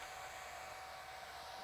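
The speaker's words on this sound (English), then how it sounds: "This blow dryer is too strong." A blow dryer set a notch lower runs as a steady, faint whooshing hiss with a thin constant tone, unbroken and alone throughout.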